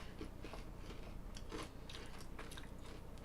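A pet crunches and chews a snack nearby, with faint, irregular crisp bites and crackles over a low background hum.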